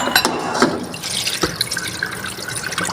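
Cut figs and a potato are rinsed in a bowl of water, giving close splashing, trickling and dripping sounds in short irregular bursts, no voices.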